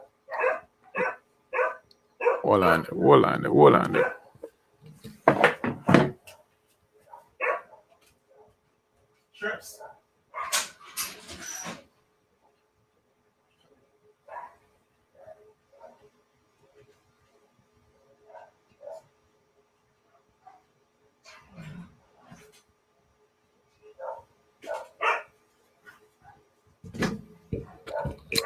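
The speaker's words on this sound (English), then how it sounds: "Guys, I have a dog around the back there." A dog barks from around the back of a house in scattered bursts of barks and yips, mixed with a person talking nearby through much of the stretch.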